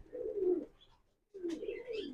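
A male Milli racer pigeon coos in two throaty, rolling phrases with a short pause between them, close and clear, with no talk over it.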